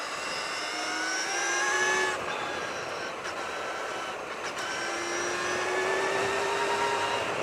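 A Brammo Empulse TT electric motorcycle with a 13-tooth rear sprocket is pushed near redline on a sweeping hairpin of Calaveras Road, its motor whine climbing steadily in two long rising sweeps over steady wind and road noise.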